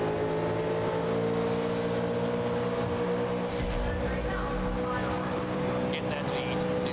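Race car engine in the GRID (2019) racing video game, a steady sustained drone at speed on a final lap, with a voice talking over it.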